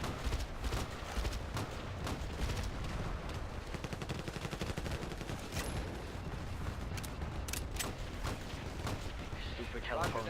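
Gunfire in Battlefield Play4Free, where an L96A1 sniper rifle is fitted with a Vulcan RangeAce scope, heard as dense repeated shots and cracks throughout, loud and close, with a voice talking underneath.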